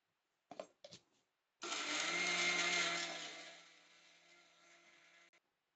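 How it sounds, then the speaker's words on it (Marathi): A mixer grinder grinds cooled roasted semolina, opening with two short pulses, then a loud, steady motor whine that slowly fades before cutting off near the end. "आपण आता मिक्सरला लावून अजून बारीक करू त्याला"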